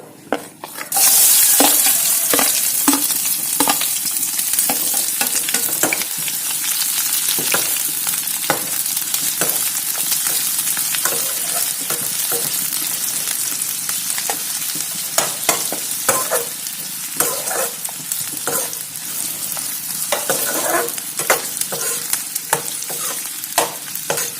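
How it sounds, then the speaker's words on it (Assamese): Onions fry in hot oil until golden brown for a home-cooked meat dish, giving a steady, loud, close sizzle broken by frequent clicks and scrapes of stirring. No one speaks. "পিঁয়াজখিনি গল্ডেন ব্ৰাউন হোৱালৈকে অকণমান ফ্ৰাই কৰি ল'ম।"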